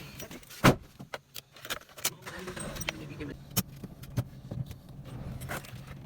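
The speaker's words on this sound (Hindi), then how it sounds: "तो गाड़ी स्टार्ट की और इसको मोड़ा।" A car in Multan is started and driven off amid close clunks, jingling keys and door-like knocks, with a steady low engine rumble running underneath.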